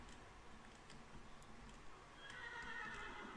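Horse neighing in the video game Minecraft, a quiet whinny set against a steady background hum, with the sound swelling and brightening over the final second.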